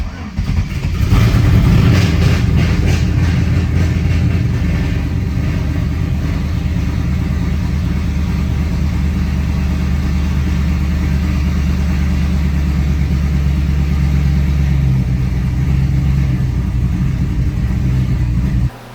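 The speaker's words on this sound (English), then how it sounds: "as you just heard, we got the truck running finally." A truck engine, just brought back to life after repair work, starts and then runs steadily with a loud, close rumble, holding an even idle with slight revving throughout.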